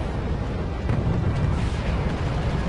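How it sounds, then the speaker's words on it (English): Mortar shells exploding in the Wargame strategy video game, a dense, rumbling roar of overlapping blasts that stays loud and steady with no clear gaps, no voices over it. "And he fires mortars"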